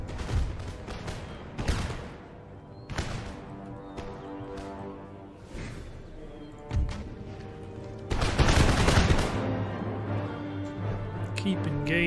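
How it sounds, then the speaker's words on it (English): Volleys of musket fire from Hungarian fusiliers in Empire Total War ring out in sharp, separate cracks at intervals, ending in a denser, louder fusillade, with battlefield noise and some speech mixed in. "Hungarian fusiliers have advanced up. You guys fire at will on."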